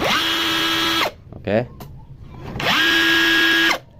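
A Kaelat cordless battery drill revs up twice, each time a loud, close high whine that holds steady and then winds down. A short bit of talk falls between the two runs.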